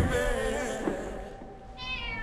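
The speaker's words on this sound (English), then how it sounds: "God, I hate that cat." A cat meows several times in quick succession, close and fairly loud, with a higher, clearer meow coming near the end.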